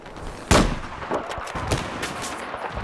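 Gunfire in Battlefield 4 during a Rush match on Guilin Peaks: one loud sharp shot lands, then scattered quieter shots and thuds follow over a steady game-ambience background, with no talk.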